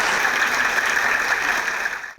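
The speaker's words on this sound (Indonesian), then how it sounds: "kita berikan aplaus yang meriah" Audience applause for Prof. Aryawan at a school talk-show event: a dense, steady wash of clapping from a large crowd that holds for about two seconds, then fades out.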